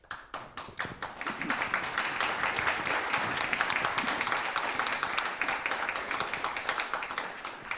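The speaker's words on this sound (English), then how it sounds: "I take it you're clapping for him" Sustained audience clapping at a political teach-in on a nuclear weapons bill, fairly close and dense, building quickly and continuing steadily throughout with no talk over it.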